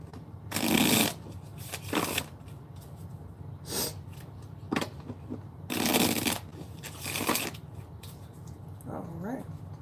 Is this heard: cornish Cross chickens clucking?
no